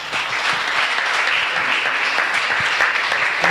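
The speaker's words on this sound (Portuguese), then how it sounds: "Dê uma linda salva de palmas" A church congregation breaks into steady applause, a dense wash of many hands clapping at once, loud and sustained throughout.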